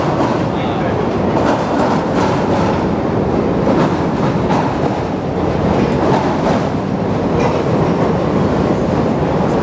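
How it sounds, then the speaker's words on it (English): Chicago elevated L train rumbling past during a river cruise, a steady broadband roar with faint clatter lasting throughout, close and loud. "the soothing sounds of the L train will now take over."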